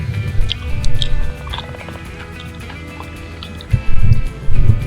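Someone chewing crunchy, smoky food cooked in a camp oven in the Australian outback, with close, uneven crunching bursts and small wet mouth sounds.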